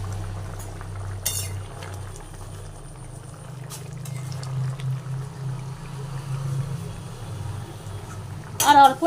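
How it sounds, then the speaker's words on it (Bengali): Fried cauliflower goes into a boiling egg curry, a low steady bubbling simmer running throughout with soft clinks of a utensil near the start and a sharper clatter at the end, and no talk. "এরপর আমি ভেজে রাখা ফুলকপিগুলো দিয়ে দিলাম এর মধ্যে।"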